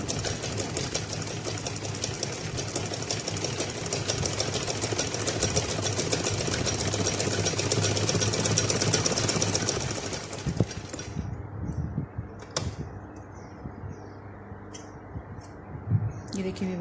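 A sewing machine stitches in a fast steady mechanical whir for about ten seconds, then stops, leaving quieter handling clicks and small knocks at close range.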